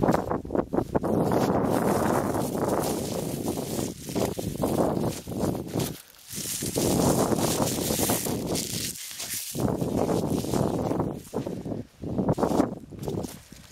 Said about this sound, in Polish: Tradycyjnie wieje całkiem mocno wiatr